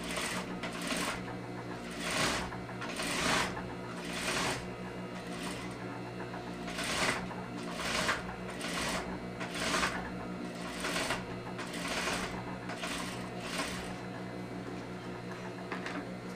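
A sewing machine runs an understitch along a zipper facing, a fast steady mechanical chatter of needle strokes with recurring brief surges, close and continuous, with no one talking.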